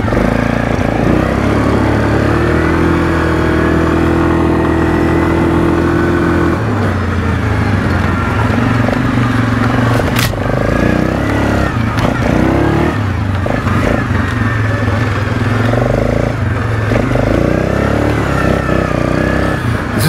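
A 2007 Suzuki King Quad 750 ATV engine runs steadily with a continuous mid-pitched drone and occasional rises in revs, loud and close throughout.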